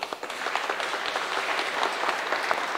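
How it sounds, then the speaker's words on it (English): A congregation at an Education Sunday church event applauds a panel. The clapping is steady and moderately loud, with individual claps standing out over the fuller sound of the crowd for a few seconds. "Let's give them a round of applause"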